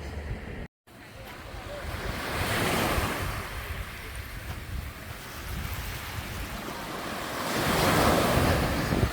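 Ocean surf rolls and crashes steadily onto the shore, with gusts of wind buffeting the microphone and a brief dropout near the start.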